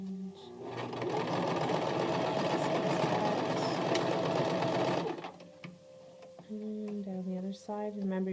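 A sewing machine stitches fabric for a face mask, running in a steady, close mechanical whir for about five seconds before stopping, after which a voice is heard.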